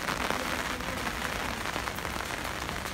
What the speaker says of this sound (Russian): пошел дождь. Слышите, как по зонту барабанит.